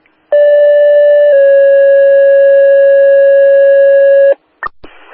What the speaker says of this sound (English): Now sounding the third alarm